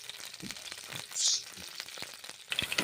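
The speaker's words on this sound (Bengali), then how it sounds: "গরম তেল, ফুলকপি ফ্রাই করে নিচ্ছি।" Cauliflower pieces frying in hot oil in a kadai, giving a steady close sizzle with crackling bursts and a brighter hiss near the middle and the end.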